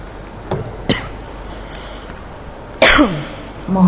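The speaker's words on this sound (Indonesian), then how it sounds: "Mohon maaf kalau saya batuk." A man coughs in a church sermon setting: faint throat sounds early on, then one loud harsh cough near the end followed by a shorter one, close to the microphone.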